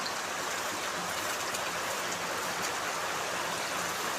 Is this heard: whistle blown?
no